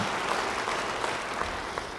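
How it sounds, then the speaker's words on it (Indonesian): Church congregation applauding in unison for about two seconds, a dense, even wash of clapping filling the hall with slight rhythmic pulses. "beri tepuk tangan bagi dia"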